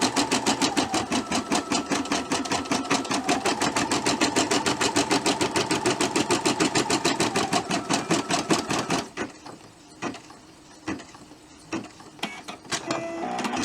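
A sewing machine runs a running stitch in a fast, even mechanical chatter for about nine seconds, then stops, leaving a few scattered clicks and handling noises.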